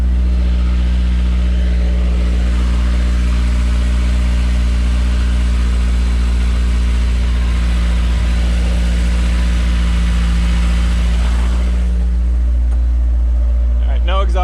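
A Honda S2000 engine with a J's Racing test pipe exhaust rumbles loudly with a deep, raspy drone, steady and close, with the idle shifting near the end as a voice briefly speaks.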